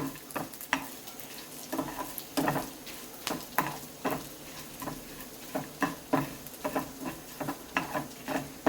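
Masala stir-fried in a little oil for Mumbai Saraswat-style mutton curry: a soft sizzle under repeated scraping stirs, rhythmic and close, with no talk.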